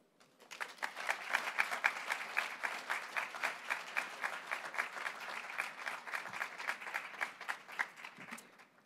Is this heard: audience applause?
yes